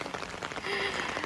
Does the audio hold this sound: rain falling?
yes